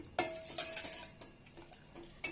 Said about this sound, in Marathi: साखर विरगळ विरघळण्यासाठी विरगळण्यासाठी थोडं हलवून घ्यायचं चमच्याने